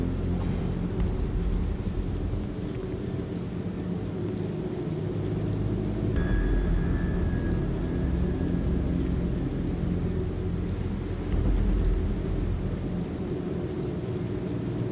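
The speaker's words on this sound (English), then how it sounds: "It's raining again" Steady rain pours with deep rumbling thunder rolling continuously in The Moment of Silence, a dense constant wash with a faint tonal whine in the middle, no voices.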